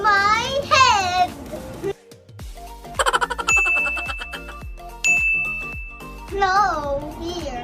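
Notification bell ding sound effect, a bright sustained ding ringing between bursts of a voice, with short tinkling hits in between.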